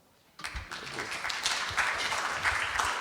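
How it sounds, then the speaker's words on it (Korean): An audience at a book launch event applauds an author. The applause starts abruptly after a brief silence and then holds as a steady, moderately distant patter of many hands. "이재희 박사님에게 박수 한번."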